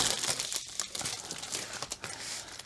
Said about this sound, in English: crinkle, crinkle, crinkle.